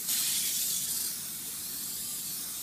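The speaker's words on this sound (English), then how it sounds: "to use some non-stick spray" Non-stick cooking spray hisses from a can onto a baking pan, a short bright spray burst lasting about a second and then fading into a faint residual hiss.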